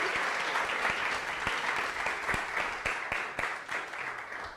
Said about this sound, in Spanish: un aplauso para Gloria